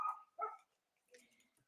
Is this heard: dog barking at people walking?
yes